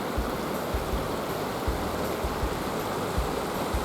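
A mountain torrent rushes along a hiking trail as a steady, fairly quiet wash of water noise, continuous and unbroken, with no voices.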